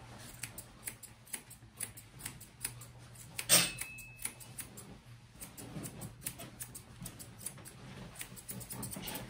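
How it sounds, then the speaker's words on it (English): Small grooming scissors snip at a Wheaten terrier's chin hair, soft quiet clicks scattered irregularly with one sharper snip, close and faint with no talking. "let me just trim your chinny a tiny bit"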